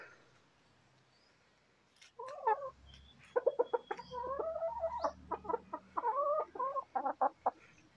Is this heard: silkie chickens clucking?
yes